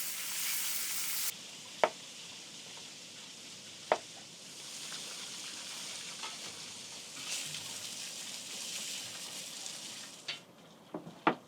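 Eggplants sizzle on an open-fire grill, a steady close hiss of frying running throughout with a few sharp clicks and knocks from handling along the way.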